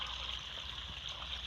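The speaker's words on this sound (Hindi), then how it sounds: "फ्रेंड्स पंप में चला छोड़ा है, पानी आना शुरू हो गया है" Water from a running pump pours steadily, a continuous broad rushing splash close by, unchanging throughout with no voices.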